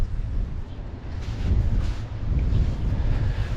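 Strong outdoor wind buffets the microphone in low, uneven rumbling gusts that swell and ease over a few seconds, with no talking.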